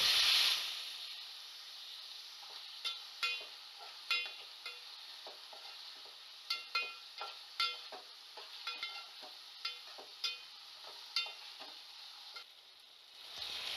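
Onion and tomato frying in a pan for a Kolhapuri-style val batata aamti, a steady soft sizzle with repeated clicks and scrapes of a spoon stirring, close and fairly quiet with no talking.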